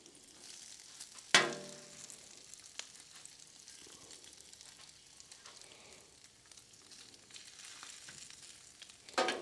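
Hash browns frying in hot grease at a racetrack breakfast cook, a steady soft sizzle with a sharp hiss as the food hits the fat, and another burst at the end.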